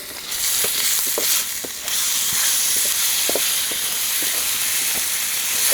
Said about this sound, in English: that's all frying up nicely